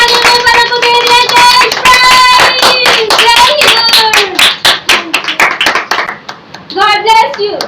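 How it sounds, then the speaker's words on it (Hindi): Steady, loud clapping from an audience at a children's church ministry competition goes on for several seconds, with children's voices calling and cheering over it before the applause thins out. "जोरदार तालियां चाहिए"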